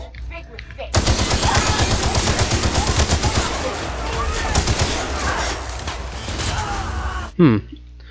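Rapid automatic gunfire from The Outer Worlds rattles loud and close in a sustained burst of about six seconds, dense overlapping shots with a brief thump near the end, no talking over it.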